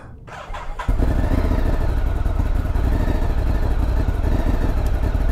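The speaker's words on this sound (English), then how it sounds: "Now, one thing I've noticed with the Ducati is it actually needs some time to warm up." A Ducati Scrambler Sport Pro 1100 motorcycle engine warms up, starting with a brief quiet moment and then rising into a loud, steady, close idle rumble with fast, even pulses.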